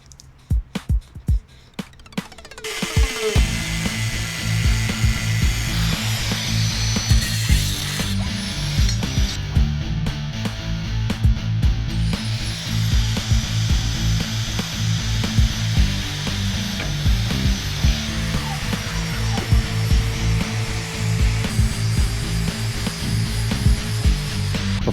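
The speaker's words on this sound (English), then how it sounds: "sand the top of this tube and my welds that you just saw me grind down" A power grinder works down welds on homemade subframe connector tubes for a classic Mustang, a loud, continuous high whine that shifts in pitch and bite as it presses into the steel for over twenty seconds.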